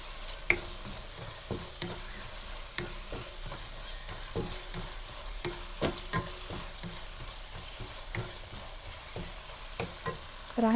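A mushroom sauce with oyster sauce and soy sauce is stirred in a pan, the spoon scraping in a steady run of soft clicks over a quiet sizzle, with no voices.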